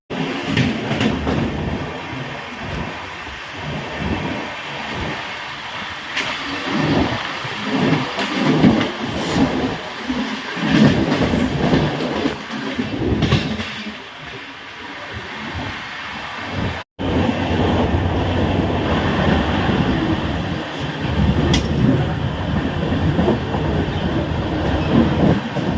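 Train running from Mumbai Central toward Ujjain, heard from inside: steady rumbling wheels with faint rhythmic clatter and surges of louder rolling noise, continuous and close, with a brief break partway through.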